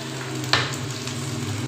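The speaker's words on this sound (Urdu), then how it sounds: "ابھی ہم نے پیاز کو ہلکا ہلکا براؤن کر لیا۔" Onions browning in cooking oil in a pan at home for an egg omelette, giving a steady close sizzle and frying hiss with two brief louder stirring scrapes.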